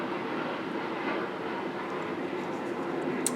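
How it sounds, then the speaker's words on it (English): A jet flying overhead outdoors, a steady broad roar that fills the whole moment at fairly loud level, without talk. "there's a jet flying overhead"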